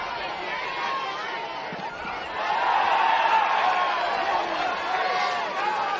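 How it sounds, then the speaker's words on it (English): A large football match crowd murmurs and chatters steadily in the distance, swelling louder about halfway through with scattered shouts rising from the babble. "Big crowd over there, isn't there? You can hear them through the effects, Mike."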